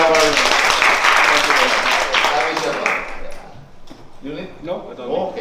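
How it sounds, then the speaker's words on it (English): Audience applause following the introduction of a guest lecturer at a talk on cocoa fermentation, a dense wash of clapping for about three seconds that fades, with voices and room noise continuing afterward. "Give applause for him."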